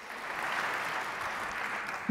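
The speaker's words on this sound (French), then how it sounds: "Je pense qu'on peut les applaudir" Audience applause at a French-language compliance conference session, a steady wash of clapping from a seated crowd lasting about two seconds at moderate level.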